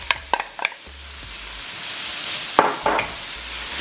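Onions, garlic and vegetables sautéing in hot oil for Filipino pancit, with a steady broadband sizzle and several sharp stirring scrapes and clatters near the start and again toward the end.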